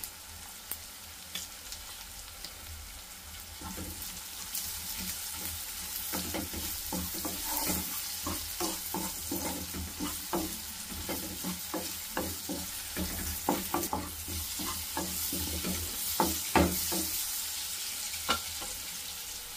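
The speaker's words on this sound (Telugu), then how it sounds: "వీటిని ఇప్పుడు మనం కొంచెం దోరగా వేసుకోవాలి" Potatoes frying in a pan with oil, a continuous sizzle under repeated scraping and clinking strokes of a spatula stirring them, close and moderately loud, no talking.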